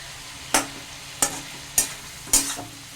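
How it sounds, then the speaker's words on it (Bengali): Potatoes and giant taro stir-fried with spices in an uncovered pan, with four distinct scraping stirs spaced across a quiet, faint sizzle, no talking. "এটাকে এবার ঢাকনা ছাড়া আমি এবার আর একটু ভালো করে কষিয়ে নেব"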